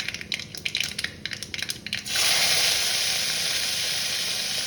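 Crackling sizzle of capsicum hitting hot oil, starting with some clattering then erupting into a loud, steady hiss that continues to the end.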